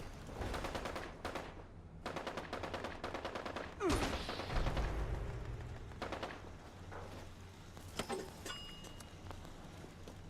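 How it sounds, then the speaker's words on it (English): Artillery strike barrage in Fallout 76, heard as rapid repeated bursts and blasts with a heavy deep explosion midway, followed by rumbling and scattered impacts that continue to the end. "Let's go throw that sweet artillery."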